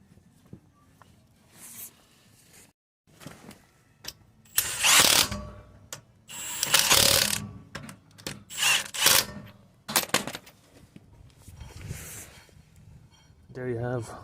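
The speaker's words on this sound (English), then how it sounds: "Just going to refit our caliper, tighten our slider bolts back on." A refitted car brake caliper on an electric parking brake setup has its slider bolts tightened with a ratchet, giving bursts of loud mechanical ratcheting and metallic clicks with pauses between them and a brief voice near the end.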